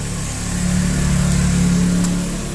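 A motorcycle engine running loud and close right after a kickstart, a steady low mechanical drone that swells slightly in the middle, with no voices.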